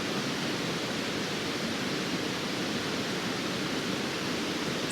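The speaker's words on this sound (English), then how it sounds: "going to sleep tonight to the sound of the river" A mountain river in snowy New Zealand high country rushes steadily, a dense, even wash of flowing water with no breaks, close and moderately loud, no voices.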